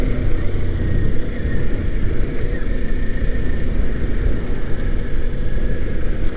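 Kawasaki Ninja 400 motorcycle underway, a constant loud low rumble of engine and wind buffeting, close and unbroken, with no clear gear shift standing out.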